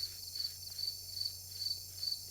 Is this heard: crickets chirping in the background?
yes